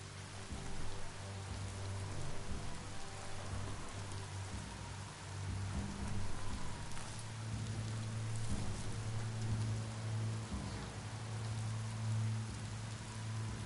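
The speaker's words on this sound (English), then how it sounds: "No escaping the rain if you've got to be out." Constant rain pours in the video game Biomutant, a dense, even hiss that fills the whole passage alongside low droning music, with occasional soft rumbles and no speech.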